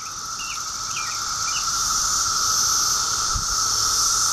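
A steady, high-pitched drone of 17-year cicadas hums continuously, loud and unbroken, with a few faint chirps flickering over it.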